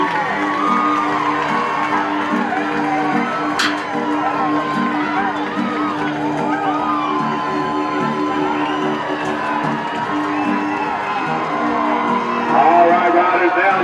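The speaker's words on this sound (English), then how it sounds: "It's your moment to get behind them. You've got a four-year-old that you like in here. Let them know it. Cheer them on" Crowd at a Tennessee Walking Horse show for four-year-olds, cheering and whooping steadily throughout, a dense wash of voices and shouts that swells near the end, with an announcer's voice in the mix.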